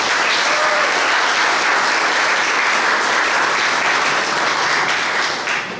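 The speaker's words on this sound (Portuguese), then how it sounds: "E peço uma salva de palmas para vocês por essas duas coisas." Sustained audience applause fills a lecture hall at a spiritist talk, a dense, steady wash of clapping from a large crowd that holds loud throughout and tapers slightly at the end.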